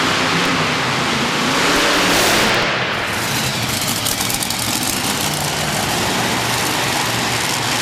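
A monster truck at the Monster Nationals event in Corbin, Kentucky roars loudly and continuously while spinning donuts, its heavy engine revving and surging with crowd-level arena noise around it.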